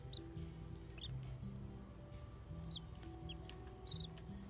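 A pet chicken clucks softly indoors, a run of low, repeated clucks interspersed with a few higher chirps, close by and fairly quiet with no talking.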